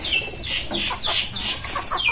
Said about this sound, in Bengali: কিছু সংখ্যক মুরগি এই যে দেখেন আমি এই পাশটাতে দিয়ে রাখছি